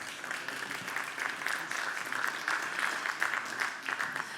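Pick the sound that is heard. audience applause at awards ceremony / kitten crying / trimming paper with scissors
audience applause at awards ceremony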